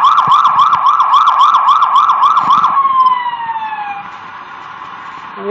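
A police car siren sounds in the Sleeping Dogs video game. It wails loudly in a fast, repeating up-and-down pattern, then winds down into a falling tone over a steady engine drone.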